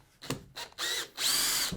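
A power drill backs screws out of an MDF board in several short whirring bursts that rise and fall in pitch, the last run longest and loudest, close to the microphone.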